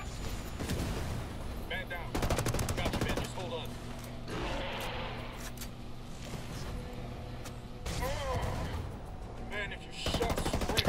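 Ghost Recon Wildlands gameplay with repeated bursts of automatic rifle fire and single shots, loud sharp volleys between quieter stretches, with a player's voice talking over the action.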